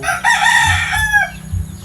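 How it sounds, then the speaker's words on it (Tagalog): Chickens of various colours, kept for sale, crow and cluck close by, with a loud rooster crow in the first second and lower clucking and farmyard noise continuing after it. "Iba-iba kulay ng mga manok dito."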